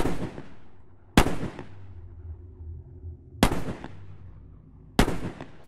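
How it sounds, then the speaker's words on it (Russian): Gunshots ring out in a film scene, loud and sharp with a long echoing decay. The first is already fading at the start, and three more cracks follow at uneven gaps of one to two seconds. "Звучит 4 выстрела"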